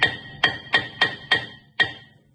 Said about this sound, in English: you grab a hammer and then you either hit it from the back or here, depends on how stuck they are